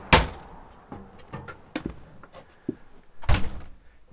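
The entry door of a 1998 Rexhall 34-foot Class A motorhome shuts with a sharp, close thunk, followed by a few quieter knocks and rattles and then a second solid thud.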